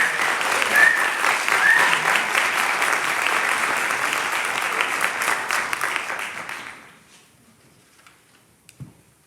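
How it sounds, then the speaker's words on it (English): Audience at a poetry recitation state final gives warm, sustained applause that holds steady for several seconds, then fades quickly into near silence with a few stray claps. "how about a round of applause?"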